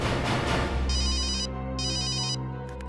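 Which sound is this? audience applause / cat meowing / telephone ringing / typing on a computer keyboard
telephone ringing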